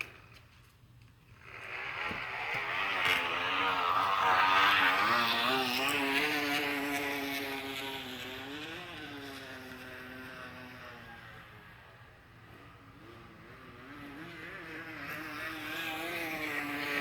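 A bicycle with a plastic water bottle flapping in the spokes, making a motorcycle-like buzzing drone that rises in pitch as the bike speeds up, dips around the middle, then builds again, fairly close and without talk.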